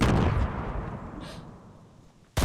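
A grenade explodes in the Fortnite Battle Royale game, a loud close blast that decays over about two seconds, then another sharp bang cuts in at the very end.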